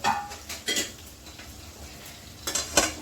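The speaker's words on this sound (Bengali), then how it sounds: "আস্তে করে এই দিক দিয়ে নাড়িয়ে দিচ্ছি অল্প করে" A spoon stirring kachki fish chorchori in a pan with oil: scraping strokes and clinks against the metal at the start and end, over a low sizzle in between, without any talking.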